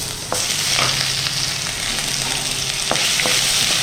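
Ginger garlic paste frying in a pan with cinnamon and cloves for a white kurma, a steady loud sizzle with a few sharp stirring clicks, close and alone with no talking.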